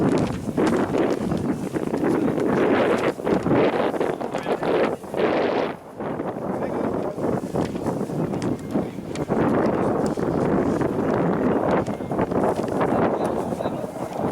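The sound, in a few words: wind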